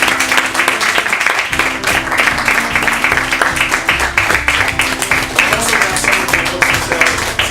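Audience applause after an author's book reading at a bookstore event, a steady dense patter of many hands clapping throughout with music and murmuring underneath.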